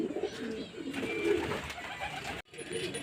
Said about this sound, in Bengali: তো চলুন বন্ধুরা দেখি পায়রাগুলো কেমন উঠছে